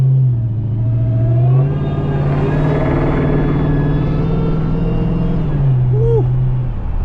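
A supercharged Dodge Charger Pursuit accelerates hard, its engine note climbing and holding in a loud, close rumble with supercharger whine before easing back, with no talk over it.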